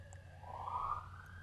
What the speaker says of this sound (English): Can you hear that siren? Yeah. Sounds like it's right outside.